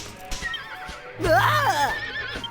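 A horse in the Dragon Quest VIII video game gives a loud, wavering neigh while bucking, preceded by softer snorts and thumping hooves.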